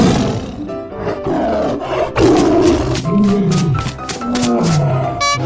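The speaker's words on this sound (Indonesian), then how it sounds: "Ini tiger." A tiger in a video game lets out a loud, sustained roar that rises and rolls on for several seconds, with growling pulses near the end and no talk.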